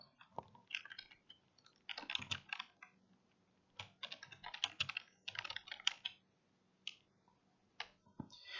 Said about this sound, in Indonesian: Sekarang kita mulai mengetik.